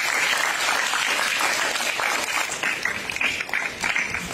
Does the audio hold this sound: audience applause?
yes